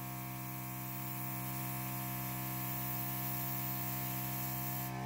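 An airbrush sprays paint in a steady, even hiss that holds unbroken for several seconds with no voices over it.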